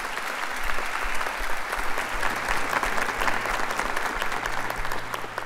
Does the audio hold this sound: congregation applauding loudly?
yes